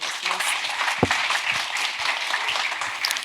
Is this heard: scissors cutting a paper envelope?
no